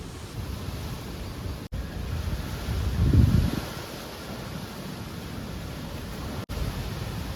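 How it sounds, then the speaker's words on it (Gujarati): Strong wind gusts across an open outdoor spot, a steady broadband rush that swells to a louder gust midway before settling back, with no voices over it. "અત્યારે ફૂલ પવન આવ્યો"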